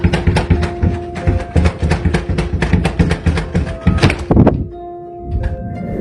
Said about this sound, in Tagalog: Matinding pagkatok ang narinig ng nagwe-video sa kanilang basement.